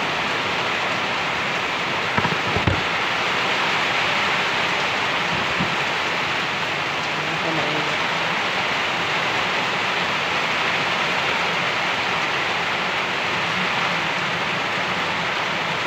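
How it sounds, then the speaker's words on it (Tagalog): Heavy rain pours steadily in a dense, continuous hiss with no pauses, with a few faint knocks early on. "Lakas ng ulan."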